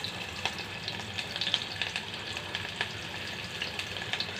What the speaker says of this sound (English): Fry the onions till it turns into brown color.